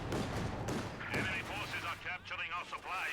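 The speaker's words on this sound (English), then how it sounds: "The autocannon flailing away" An autocannon firing in Company of Heroes 2, heavy repeated thumping bursts under a commentator's continuous talk, alongside other battlefield rumble.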